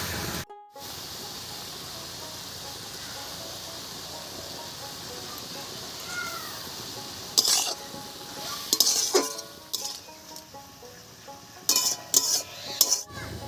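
Spinach leaves stirred in a cooking pan, with a soft steady hiss for a while, then a series of scraping, knocking spoon strokes against the pan growing more frequent toward the end.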